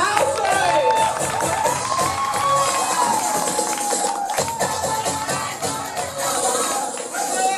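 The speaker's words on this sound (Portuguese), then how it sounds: "Aplausos!" A drag show audience cheers and claps for a performer, a dense, loud crowd roar that holds steady throughout, with shouting voices mixed in.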